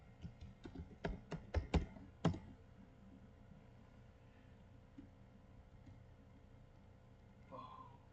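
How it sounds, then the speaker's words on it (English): A command typed on a computer keyboard in a Kali Linux terminal: a quick burst of about eight sharp, close key clicks in the first couple of seconds, then quiet room tone with a faint voice near the end. "let's type GhostRecon to start the application"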